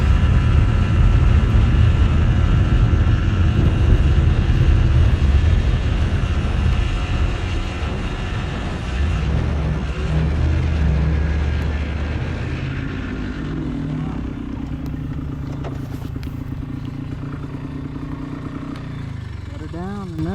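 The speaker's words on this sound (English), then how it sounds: "I think that was pretty good for a 250, air cooled 2-stroke." A Polaris Trailblazer 250 air-cooled two-stroke ATV engine drones loudly and rough in the foreground, then fades into a lower, steadier idle as someone talks over it near the end.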